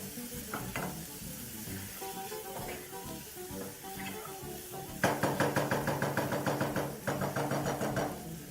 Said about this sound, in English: we're just going to go in and add our potatoes. And we're just going to saute that a little more